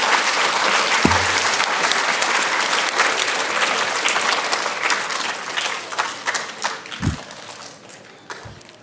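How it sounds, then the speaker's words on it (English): An audience at a school Bulldog Pride Awards ceremony gives steady, dense applause for third grade students, with a few low thumps scattered through the clapping. "Let's give a round of applause to our third grade friends."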